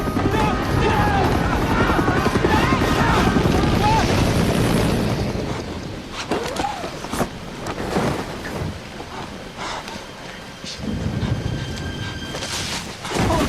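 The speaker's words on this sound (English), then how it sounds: "That helicopter was out of control," An out-of-control helicopter gives a loud, close, rapid rotor thumping with roaring wind for the first few seconds, then fades into rougher rumbling, bangs and crashing noise.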